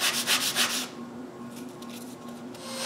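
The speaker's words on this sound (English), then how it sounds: "I cut this into two and sand some pointy tips" Sandpaper rubs against pointy wooden sword tips in a quick series of close strokes, then settles into a softer, steadier scrubbing, with no voices.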